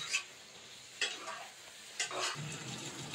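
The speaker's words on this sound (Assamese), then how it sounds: "এতিয়া আলুখিনি আধা সিজালৈকে ধুনীয়াকৈ ভাজি থাকিম" Potatoes fry in a pan for a chicken curry, with three spatula scrapes about a second apart over a faint, quiet sizzle.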